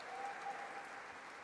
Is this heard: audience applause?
yes